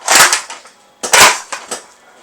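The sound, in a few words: cartridge toy blaster being fired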